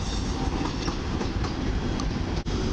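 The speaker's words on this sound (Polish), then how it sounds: "na torach podmiejskich zameldował się SKM Impuls do Pruszkowa linia S1" An SKM Impuls suburban train on line S1 to Pruszków rolls into Warszawa Wschodnia station in winter, a loud, continuous rumble of wheels and carriages with rhythmic clickety-clack close at hand.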